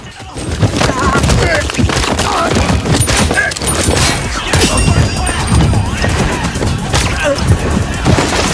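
A close-range gunfight in an action film, with rapid loud gunshots and crashing impacts packed densely throughout, mixed with film sound and voices.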